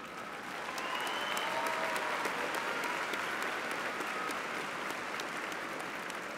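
A high school graduation audience applauds outstanding educators, with steady, dense clapping from a large crowd that swells and holds, heard from a distance in a big hall.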